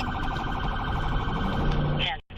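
Police car sirens wail steadily and loudly during an emergency response, the tone sweeping continuously before cutting off abruptly near the end.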